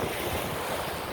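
Waves rolling onto an empty sandy beach on a clear, warm morning, mixed with steady wind rumbling across the microphone; a continuous, fairly even wash of surf with no voices.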